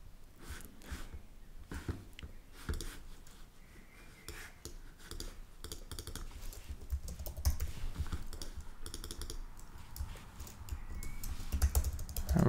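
Quick bursts of keystrokes clatter on a computer keyboard while designing an iOS interface in Figma, irregular soft taps close to the microphone with short pauses and no voices.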